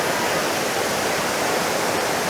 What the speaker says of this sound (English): It's not a very big waterfall, but look at the power of the water.